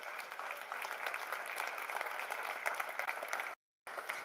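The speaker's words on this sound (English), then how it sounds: "Let me get a clap" Audience applause fills a room at a financial workshop event, a steady dense clatter of many hands clapping that runs for several seconds, breaks off abruptly, then resumes.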